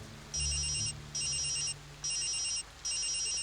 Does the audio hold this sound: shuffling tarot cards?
no